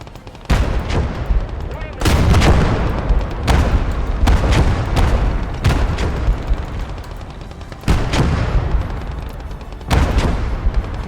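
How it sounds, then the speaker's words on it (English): Battlefield gunfire and heavy booming shots from the winter war game Blood Red Snow, where mortars are being put into action. Repeated loud blasts land at irregular intervals over a constant rumble of combat. "I want these mortars in action"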